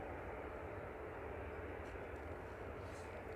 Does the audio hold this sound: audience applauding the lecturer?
no